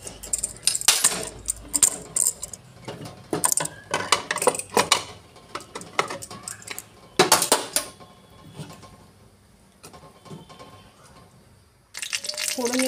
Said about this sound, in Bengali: ফোড়নে দিলাম সর্ষে আর শুকনো লঙ্কা